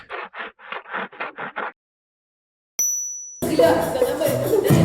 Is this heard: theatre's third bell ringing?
yes